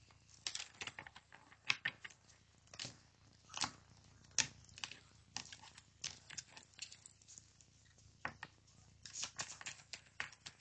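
An oracle deck is shuffled by hand in a quiet room, cards riffling and slapping in irregular bursts with brief pauses between them.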